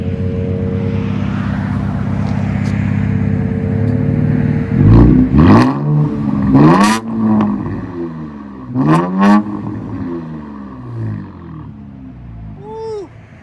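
Straight-piped Infiniti Q60 with a 3.7L V6, revving in several loud, rising bursts that climb and fall, starting from a steady idle rumble, close by with no talking.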